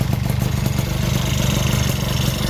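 Honda Dio scooter engine with a new B8 exhaust pipe idling steadily close by, a continuous low throbbing putter with light mechanical clatter and no talk.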